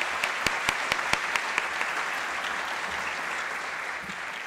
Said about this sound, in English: How about another round of applause for Barbara and her accompaniers?